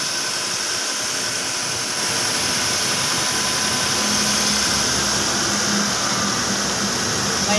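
A second-generation Honda CR-V engine idles after a spool valve filter and oil pressure switch repair, a loud, steady running drone with a constant low hum and no speech.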